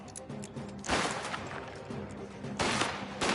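Gunfire in a Mafia: The Old Country shootout: a sharp burst of shots near the one-second mark and another around two and a half seconds, loud and close, over a steady low hum of game ambience.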